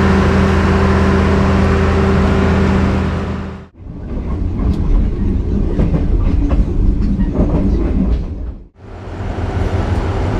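The Serayu passenger train runs on its rails with a loud, steady rumble and clickety-clack of wagons. Two brief dips cut the roar, and no talk is heard.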